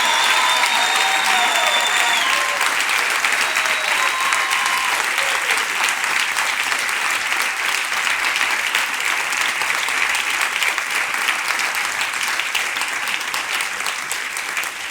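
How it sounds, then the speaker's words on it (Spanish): A church congregation applauds during a sermon, loud sustained clapping that stays dense and even throughout, with a few faint sustained tones drifting in near the start. "Aplaude al Señor,"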